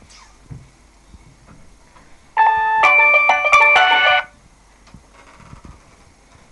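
A Nokia Q7 TV mobile phone in black and red plays a loud polyphonic ringtone for an incoming call, a bright melodic burst of about two seconds standing alone against quiet room background.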